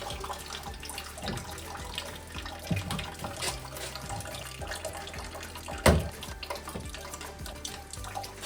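Water runs from a faucet and drains in a bungalow bathroom under remodel, a faint continuous splashing trickle with a brief louder knock partway through.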